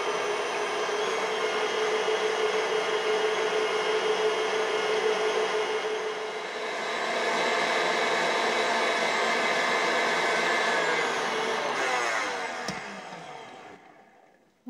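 Stand mixer whipping chilled cream, a continuous loud motor whine with a steady whirring hum, close by, dipping briefly mid-way before winding down and stopping at the end, no talking.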